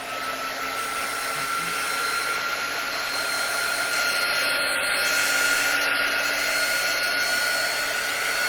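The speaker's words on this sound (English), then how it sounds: "I'm going to grab my drying tool and just kind of give this a quick dry." A handheld craft drying tool blows a steady, loud stream of air over wet glue on a cinnamon stick Christmas tree, a continuous whooshing hiss with a faint whine that holds unbroken throughout, with no talking.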